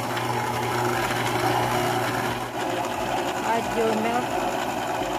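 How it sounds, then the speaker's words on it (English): An electric mixer beats butter and cream cheese in a bowl, a steady close motor whir running throughout while a person speaks. "butter, 2 tablespoon, cream cheese, mix this. I use the mixer"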